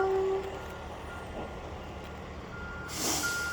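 Truck reversing beeps sound faintly in the distance during an outdoor walk, a few spaced tonal pulses over steady background noise, with a brief louder rush near the end.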